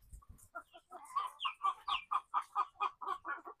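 A sick chicken with a swollen face clucks in a quick, regular series of short calls, close and clear against a quiet background.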